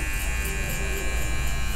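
An electric hair clipper buzzes steadily at close range while cutting hair for a high fade, holding a constant, even whine with no voice over it.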